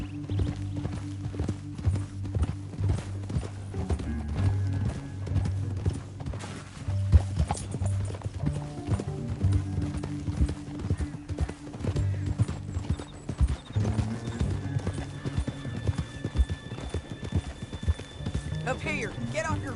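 Horses gallop in a PS4 western video game with rhythmic clip-clop hoofbeats and an occasional whinny, over a low game score, and characters talk throughout.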